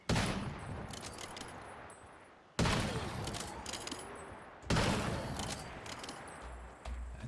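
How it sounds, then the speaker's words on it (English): Sniper rifle fire in the video game Once Human: three loud, sharp shots spaced about two seconds apart, each followed by a long, rumbling decay. "Let's try the new and improved sniper rifle."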